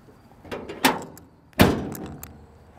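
The hood of a 1956 Pontiac Chieftain is lowered: two light metallic clunks, then one solid, close slam, with the sound dying away briefly.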